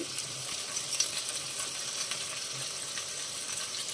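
Dried red chillies, cumin, onions and green chillies fry in a pan with a quiet, constant sizzle and a few light stirring clicks, and no one talks over it.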